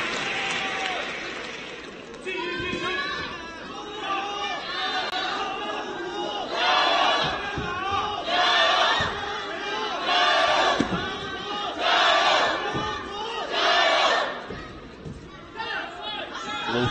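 Arena crowd roaring and cheering through a taekwondo Grand Slam final, with swells of noise rising and falling over about seventeen seconds and a commentator's voice woven in.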